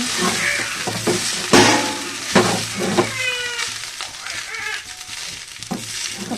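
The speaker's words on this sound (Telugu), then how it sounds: "మొత్తం మిక్స్ చేసేద్దాం ఒకసారి బాగా మిక్స్ చేయండి పోపు అంతా పట్టే వరకు" Mashed leftover idli upma is stirred in a hot pan with its tempering, giving scraping spatula strokes over a continuous loud sizzle and a few sharp knocks against the pan.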